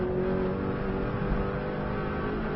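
A Subaru car on an Isle of Man road lap pulls hard after a single-gear downshift, its steady engine drone and road roar filling the interior continuously, close and fairly quiet.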